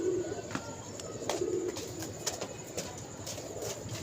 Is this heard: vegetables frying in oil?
no